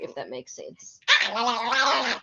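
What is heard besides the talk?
dog barking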